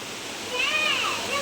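Heavy rain pours down in a Bengali home during a flood-threatening storm, a steady broad hiss of water close by with a brief splashy surge midway; no one speaks.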